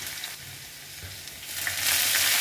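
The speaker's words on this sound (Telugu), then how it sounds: "ఆయిల్ వేడెక్కిన తర్వాత అందులో ఆవాలు, జీలకర్ర, దంచి పెట్టుకున్న ఈ వెల్లుల్లిపాయలు ఉంటాయి కదా అవి" Mustard seeds, cumin and crushed garlic fry in hot oil with a close, steady sizzle that grows louder and brighter toward the end, with light crackles throughout.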